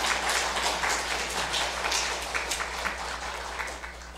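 A congregation at a university church Sunday worship service gives a round of applause, a broad wash of clapping that holds strong and then slowly eases off, with a low steady hum underneath.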